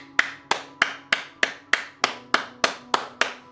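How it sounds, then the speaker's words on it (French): Clapping in unison, about eleven crisp, evenly spaced claps at a steady rhythm, moderately loud with no voices. "10 secondes d'applaudissements"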